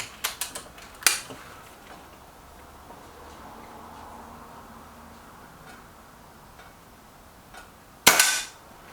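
A Reximex Myth air rifle fires at a target, a few sharp clicks early on, then a crisp loud shot crack near the end after a quiet stretch of low room noise.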